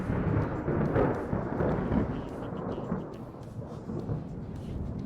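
Thunder rumbles through a naval battle in the warship game Ultimate Admiral Dreadnoughts, a long low roll of steady storm noise with faint rain behind it. No one speaks over it.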